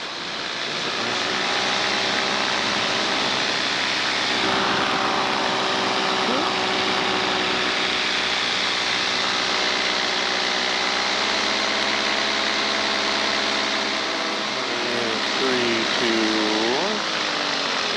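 A small airplane's engine drones steadily at idle during simulated engine-out practice, with a low propeller hum and wind noise layered on top, dipping briefly near the end.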